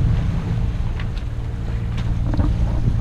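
A sailboat motoring under engine power in light wind after leaving Isla Mujeres gives a steady, close, low engine drone that runs throughout, with wind buffeting the microphone and faint water noise over it.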